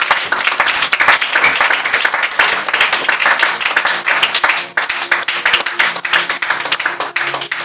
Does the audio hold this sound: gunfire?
no